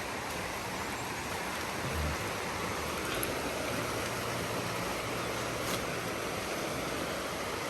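Continuous rushing water of the Hinaguan river, a broad steady wash of the river flowing nearby, with no voices.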